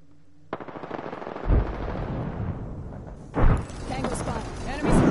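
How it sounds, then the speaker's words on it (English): Gunfire in the battle royale game Apex Legends: rapid automatic bursts rattle on and off, with heavy thumping impacts, loud and close, while a player speaks over it. "I'm spotted, taking fire."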